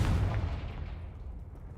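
A Confringo blasting spell bursts in Hogwarts Legacy, a dense low boom with a rumbling tail that decays over nearly two seconds, loud and close with no voice over it.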